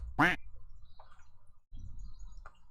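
A single loud, nasal duck quack sounds from the Golf Clash video game, followed by faint chirpy blips and a low murmur of background talk.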